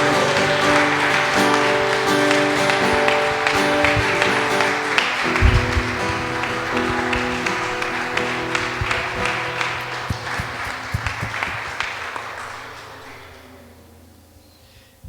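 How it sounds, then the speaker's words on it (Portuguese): A church congregation claps in praise during a celebration service, rhythmic clapping over sustained music that gradually fades out toward the end. "As palmas louvam a Deus."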